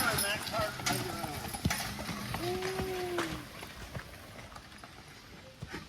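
A team of horses clip-clops steadily at a moderate distance while pulling a logging cart around a corner, hooves thudding under faint outdoor ambience and a short whinny-like tone.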